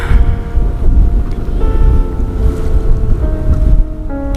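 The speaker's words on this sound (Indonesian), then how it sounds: "Sini anginnya sangat kencang banget ya guys ya." Strong wind buffets the microphone on the shore of Lake Toba, a loud continuous low roar with gusting swells and faint tonal sounds, with no voices.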